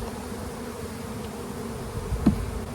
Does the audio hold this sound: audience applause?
no